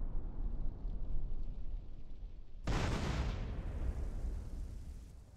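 A sudden loud explosion in DYOM, a GTA San Andreas mission mod, bursting out midway over a low rumbling background and then decaying into a lingering roar.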